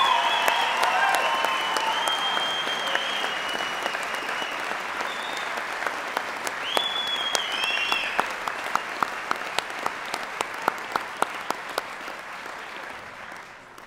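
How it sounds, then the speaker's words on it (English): Sustained applause from a large commencement audience honoring spring engineering graduates, a dense crackle of many hands that holds steady and slowly thins toward the end. "How about one more big round of applause for all our spring graduates?"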